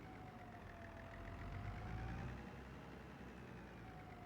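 A tractor engine in Farming Simulator 25 idles steadily with a low, throaty rumble and a faint whine, swelling slightly midway, with no talk over it.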